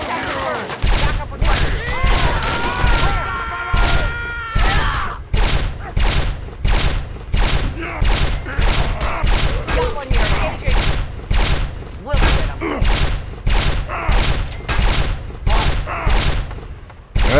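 Rapid bursts of weapon fire in Fallout 3, a dense run of sharp, loud shots repeating steadily through the whole stretch, with a few whining tonal effects early on and speech over the top.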